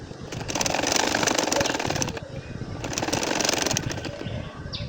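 Sewing machine stitching a nakshi kantha quilt, its motor running in two steady bursts of rapid, continuous stitching with a short pause between them, close and fairly loud with no talking.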